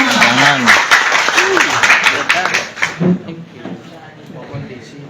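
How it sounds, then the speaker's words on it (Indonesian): Audience applause at a tourism awareness training event in a hotel in Pamekasan, clapping mixed with a loud voice talking over it and fading out partway through. "tepuk tangan untuk kita semua"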